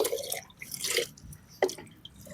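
Water from a bucket splashes and drips onto a Royal Enfield Meteor 350 motorcycle being washed, with irregular close splashes and trickles.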